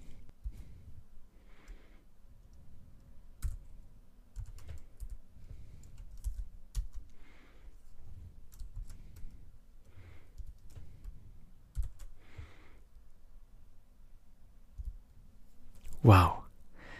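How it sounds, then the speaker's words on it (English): Light computer keyboard typing of Emacs keystrokes, soft scattered taps and short runs of clicks spread through the quiet clip, with a louder burst near the end. "Wow, that was 10 keystrokes."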